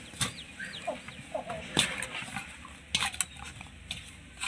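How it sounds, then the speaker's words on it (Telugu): Wheat flour dough for Ugadi bobbatlu is mixed in a bowl, heard as close, irregular scraping and soft clinks of a utensil against the vessel, with some faint background sounds between strokes. "పిండి ఒకసారి ఇలా బాగా కలుపుకోవాలండి."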